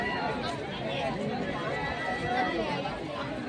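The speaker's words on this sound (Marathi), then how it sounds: "ठीक आहे यार किती गर्दी आणि काय" Dense crowd chatter fills the Sativali village fair in Maharashtra, a continuous hubbub of many overlapping voices close around, with nearer people talking in the mix.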